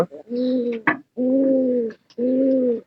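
Three low, mellow coos from a nearby pigeon, each a steady hum lasting about a second, separated by short pauses and a faint flutter.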